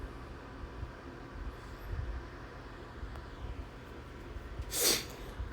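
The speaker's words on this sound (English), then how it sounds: "sorry for the sniffle in here" A single quick sniffle near the end stands out over a quiet low background hum.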